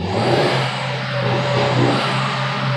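A 2015 Chevy Cruze turbo engine with a suspected boost sensor fault revs steadily up close, a loud sustained engine drone with a whirring tone and no talking.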